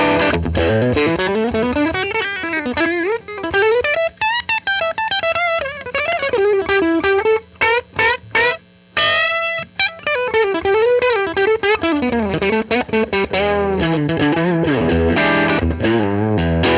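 An electric guitar plays through an Armored Amplification Little Rascal low-watt combo amp with the preamp gain up at 3 o'clock, giving slightly driven chords and single-note runs over a steady low hum, with no talking.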